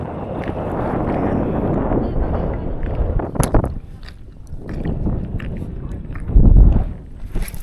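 Gusty wind buffets the microphone at a fishing pond, a steady low rumble that swells and fades, with a heavier blast near the end.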